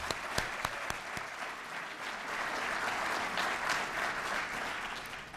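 An audience at a city State of the City event breaks into applause, a few sharp early claps swelling into a steady crowd clapping that carries on for several seconds.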